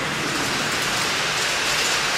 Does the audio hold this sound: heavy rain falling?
yes